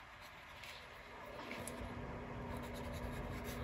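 A calligraphy pen writes on an art journal page, a soft, continuous scratchy rubbing of nib on paper, quiet and close, with no talking.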